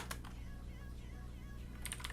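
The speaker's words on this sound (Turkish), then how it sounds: "Klavye sesinden dolayı özür diliyorum arkadaşlar." Computer keyboard typing during a PC game session, with rapid clustered keystrokes near the microphone at the start and end and a steady background hum between the bursts.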